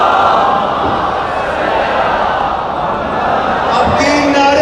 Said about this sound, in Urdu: اتنی بلند صلوات پڑھیں کہ وقت کا وارث ہم پہ راضی ہو جائے۔